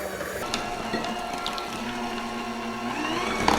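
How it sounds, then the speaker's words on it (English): A hand mixer whirs steadily while beating six eggs for a Southern-style butter pecan loaf pound cake, with wet sloshing and small clicks of the beaters against the bowl, close and fairly loud. "I'm going to use up my hand mixer"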